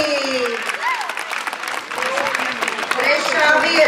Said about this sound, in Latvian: Aplausi, aplausi.